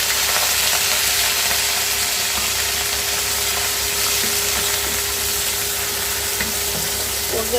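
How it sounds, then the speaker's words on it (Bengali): Already-fried onions sizzle loudly in a pan after water is poured in, a steady, close, dense hiss that holds unbroken throughout with no talk. "আমার পেঁয়াজটা অলরেডি মোটামুটি ভাজা হয়েছে এবার পানি দিয়ে দিলাম"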